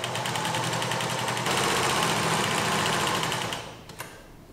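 A sewing machine runs continuously, stitching thread through fabric in a beginner's sewing exercise, a close, fast mechanical whir with rapid needle ticking that speeds up, then slows and stops near the end.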